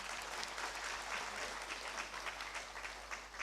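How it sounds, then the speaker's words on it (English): An audience at an International Women's Day celebration gives a round of applause, steady dense clapping held at an even level throughout, fairly faint and roomy. "huge round of applause"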